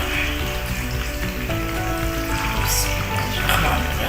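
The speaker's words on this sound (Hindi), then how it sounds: "गोश्त ऐड करने जा रहे हैं। गोश्त को ना हमने घी में भूनना है।" Mutton pieces frying in hot ghee in a pot for degi aloo gosht, giving a steady, close, crackling sizzle with dense popping throughout and no talk.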